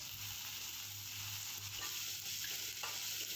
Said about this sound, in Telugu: అదేవిధంగా కట్ చేసి పెట్టుకున్న పచ్చిమిర్చి ముక్కలను కూడా వేసుకొని ఫ్రై చేసుకోవాలి.